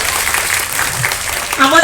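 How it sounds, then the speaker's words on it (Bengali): Loud clapping from a crowd welcoming guests at a Tripuri cultural gathering, a dense steady patter throughout with voices mixed in near the end. "বরণ করে নিচ্ছি জোরে হাততালি"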